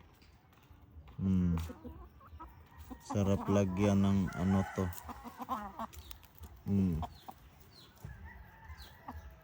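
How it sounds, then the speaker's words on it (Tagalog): A tailless chicken on a rural farm in Negros lets out a run of clucking calls close by, bunched in short bursts, while a person talks nearby. "Manok na walang buntot, guys"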